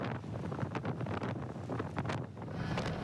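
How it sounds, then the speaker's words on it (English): Strong Hurricane Florence winds with horizontal rain buffet the microphone on a beach as offshore gusts blow out to sea, a loud, steady roar that swells and dips without letup. "The rain has increased exponentially and the winds have really picked up as well."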